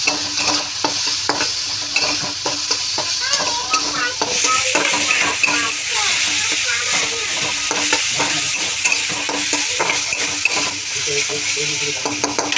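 Vegetables with salt being stir-fried for veg noodles in a pan, a steady loud sizzle with repeated scraping and tossing strokes of a spatula throughout, no talk.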